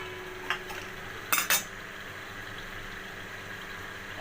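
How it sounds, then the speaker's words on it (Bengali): Fried potatoes are lifted out of hot oil amid a steady frying hiss, punctuated by a couple of sharp metal clinks from a spoon against the pan. "এবার আলুগুলোকে আমি সব তুলে ফেলছি।"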